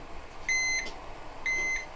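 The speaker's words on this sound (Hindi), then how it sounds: "देखिए ये LED बार बार जल रहा है और बीप दे रहा है बार बार" A UPS overloaded past its capacity gives two sharp electronic beeps, each a steady tone of about a third of a second, spaced roughly one second apart over a quiet background hum.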